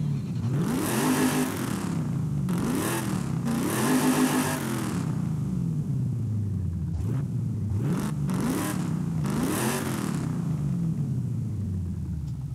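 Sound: 1996 Chevy Impala V8 engine revving in video game Forza Horizon 5

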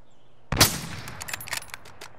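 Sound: gunfire in Call of Duty: Modern Warfare video game

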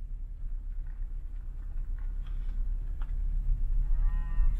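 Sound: cattle mooing on a road in Wyoming

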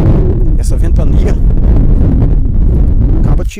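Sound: strong wind blowing on the microphone outdoors

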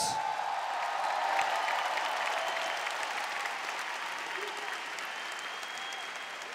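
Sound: crowd applause for the fighters

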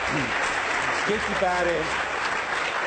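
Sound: audience applause in a TV studio

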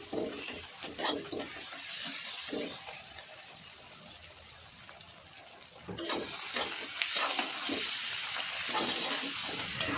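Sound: ginger garlic paste being stirred and fried in a pan

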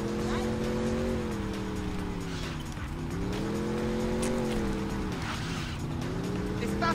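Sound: car driving fast in the video game Saints Row

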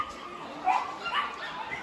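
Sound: Alaskan Malamute dogs barking at a kennel

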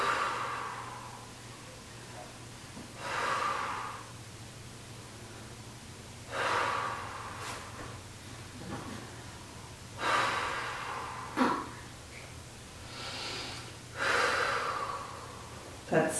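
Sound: deep breathing during core exercise

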